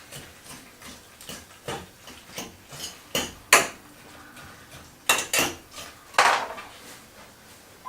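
A spoon stirs a chicken curry mixture in a pan, making irregular close knocks and scrapes against the metal, some sharp and loud, with no talking.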